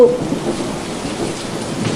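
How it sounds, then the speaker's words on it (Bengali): A cartoon thunderstorm pours down heavy rain, a dense, loud, continuous hiss with a low rumble of thunder underneath, steady throughout with no voices. "টানা তিন দিন আকাশ পুড়ে বৃষ্টি নামল"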